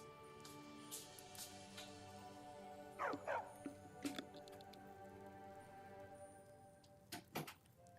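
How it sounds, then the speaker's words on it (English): A dog in Skyrim lets out two sharp yelps as it is kicked aside, followed by a couple of fainter yips, set against steady game background music. "Nope, just kicking the dog out the way."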